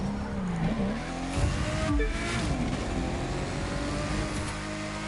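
Race car at night in The Crew 2, engine droning loud and steady throughout with pitch shifts as it accelerates, a brief tire squeal and skid near the two-second mark.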